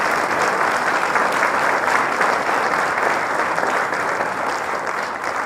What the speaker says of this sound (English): Again, one last round of applause.